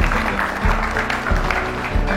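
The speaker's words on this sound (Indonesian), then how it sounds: "Tepuk tangan untuk multimedia." Audience applause at a live poetry recitation event, a dense steady wash of clapping lasting the whole moment, loud and close.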